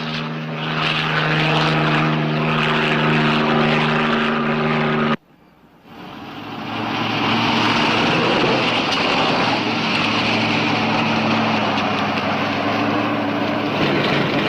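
A police helicopter flying overhead gives a loud, steady engine and rotor drone that drops out abruptly for a moment, then swells back to full strength.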